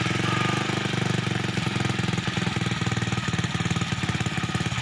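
A small motorcycle engine idles on a homemade CDI ignition, running loud and close with a fast, even, chugging pulse that continues steadily throughout.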